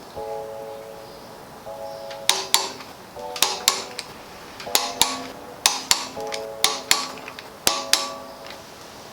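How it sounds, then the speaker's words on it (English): Sharp metallic clicks of a torque wrench tightening the clutch bolts on an NA Mazda Miata, several close clicks in irregular bursts with quiet ratcheting between and no talk. "we're going to be torquing this down in stages and in a crisscross pattern"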